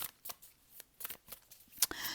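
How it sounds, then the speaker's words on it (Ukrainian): A tarot card deck is shuffled by hand in a series of crisp, papery riffling bursts with short pauses between them, close and fairly quiet, with no talking. "Я тасую колоду, ви налаштовуєтесь."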